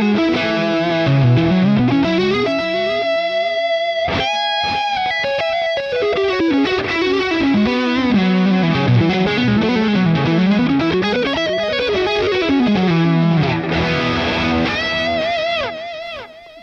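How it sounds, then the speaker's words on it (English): Electric guitar lead tone through a Boss Katana amp with delay and a booster, no reverb: a sustained, distorted melodic line with fast runs and bends, loud and continuous, playing alone. "Oh, it doesn't even have reverb on it, just delay and a booster going into the lead."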